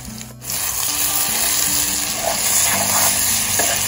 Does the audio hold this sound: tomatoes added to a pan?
yes